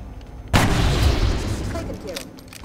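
A single heavy gunshot from XCOM Long War cracks sharply and loud, then trails off into a long rumbling decay with faint scattered clicks afterward.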